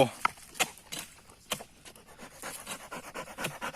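A dog pants rapidly in quick, uneven breaths close to the microphone outdoors in the countryside, with some rustling and a bit of talk mixed in.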